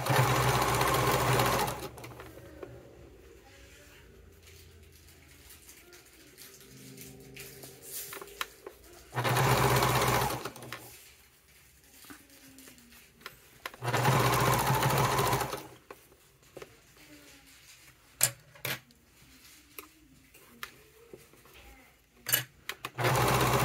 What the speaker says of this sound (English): I am going to increase my stitch length a bit and top stitch across